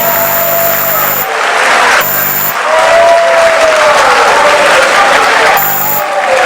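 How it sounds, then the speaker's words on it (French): A large crowd at a PPA-CI political rally gives a standing ovation. Loud, sustained applause with scattered cheering fills the whole stretch without pause. "Encore une belle ovation."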